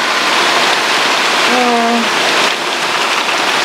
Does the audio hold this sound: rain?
yes